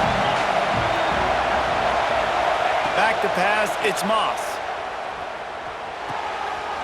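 Stadium crowd noise from the College Football 26 video game forms a loud, constant roar that sits under a commentator's play-by-play speech, easing slightly toward the end.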